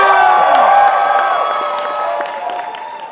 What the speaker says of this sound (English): use audience applause if you wanna hear Elmer